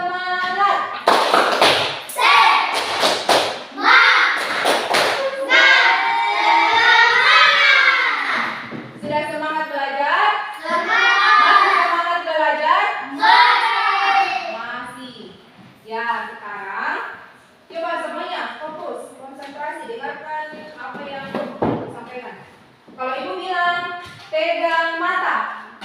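Classroom of children doing a rhythmic spirit clap, bursts of clapping mixed with chanting and a teacher's voice, loud and close.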